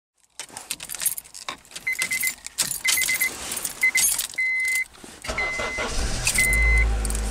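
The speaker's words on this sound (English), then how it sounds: "The engine cranks up perfectly, nice and quick, and the car starts and runs just fine." A car engine cranks and starts, with keys jangling early on, repeated starter bursts with short tonal whines, then the engine catching and settling into a steady low idle, close and without talk.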